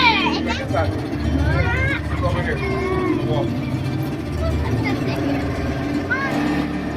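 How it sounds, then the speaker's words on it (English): A motorboat crossing the Nile, its engine a steady low drone running throughout with water wash, close by, while several people, including children, chatter over it. "Heading across the Nile by motorboat."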